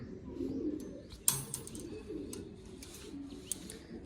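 Pigeons and their young perched in a net enclosure coo in soft low murmurs, with a sharp clack and a few faint ticks nearby.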